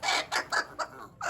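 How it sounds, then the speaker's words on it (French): A hen clucks four or five times in a quick, uneven series, close and distinct, with nothing else heard. "Ça, c'est une poule."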